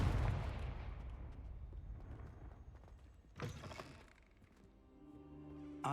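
Confringo spell explosion in Hogwarts Legacy, a heavy booming blast at the start that rolls off into a rumbling decay, with a second sharper burst and some mechanical rattling afterward.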